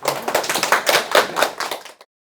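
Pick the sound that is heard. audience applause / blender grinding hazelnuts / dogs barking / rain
audience applause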